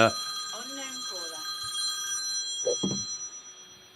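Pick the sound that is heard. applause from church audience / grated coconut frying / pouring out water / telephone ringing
telephone ringing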